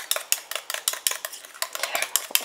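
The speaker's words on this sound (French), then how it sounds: "Et je mélange." A utensil stirs homemade anti-aging cream scented with celery essential oil in a small dish, giving close, quick repeated scraping clinks in an uneven rhythm, with no talking.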